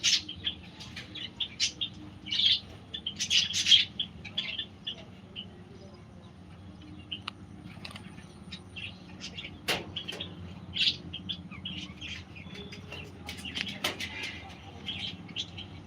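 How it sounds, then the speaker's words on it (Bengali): Pet pigeons perched up high at a home coop, giving soft chirps and intermittent bursts of calling over a low steady background hum, with brief flutter-like sounds; no talking. "আমাদের পায়রাগুলো সব এখন উপরে বসে আছে।"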